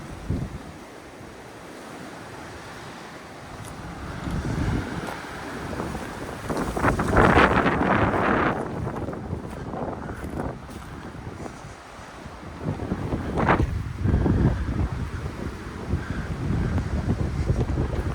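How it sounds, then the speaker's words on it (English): A westerly wind blows across a ridge-top hillside campsite, a steady rushing roar that swells into stronger gusts and buffets the microphone, with no voices over it. "The wind's coming from the west."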